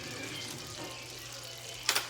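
Butter melts and simmers in a skillet with a soft, continuous hiss close by, ending in a brief light knock.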